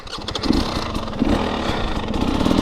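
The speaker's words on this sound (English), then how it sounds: "So pull on the clutch, hit the starter." Motorcycle engine cranking on the electric starter after the clutch is pulled, then catching into a rough, uneven running rumble. Loud and close, with no voices.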